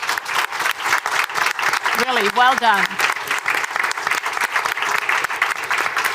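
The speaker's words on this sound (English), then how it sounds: "all six of you, deserve a warm round of applause from this audience" Warm applause from a conference audience for a six-member panel, dense rhythmic clapping that continues throughout, with someone speaking briefly over it partway through.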